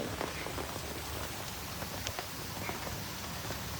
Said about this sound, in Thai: ฝนตก ชุ่มฉ่ำตกทั้งวันทั้งคืน